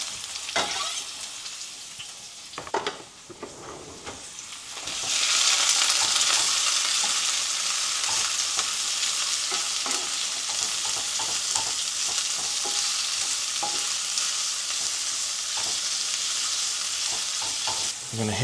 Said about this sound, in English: we're gonna saute our veg in all of this buttery goodness